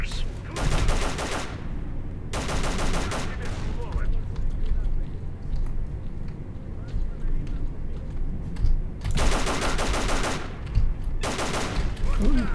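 Sniper gunfire in the shooter game S.T.A.L.K.E.R. Call of Pripyat comes as four loud, close bursts of rapid shots, two early and two near the end, separated by a stretch of quieter rumbling background.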